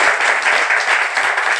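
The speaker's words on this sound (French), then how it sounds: "Vous pouvez applaudir à nouveau." Studio audience applauding during a television broadcast, loud and close, an even, continuous burst of clapping with no voices over it.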